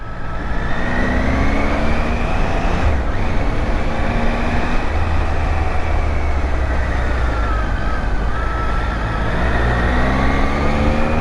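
A motorcycle cruising along a road on a long tour between Leh and Bangalore, with steady loud engine drone and wind rush that change pitch slightly as the bike rides continuously.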